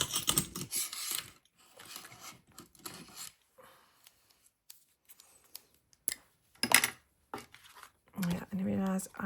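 Scissors trim the edges of a handmade greeting card, giving a few short crisp snips and rustles of paper heard close up, with a soft voice talking between the cuts.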